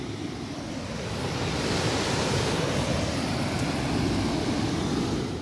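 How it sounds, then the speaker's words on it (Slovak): Water roars steadily over the Žilina dam in Slovakia. The rushing is broad and constant, with no other sound on top. "Počujete ten hukot vody za mnou?"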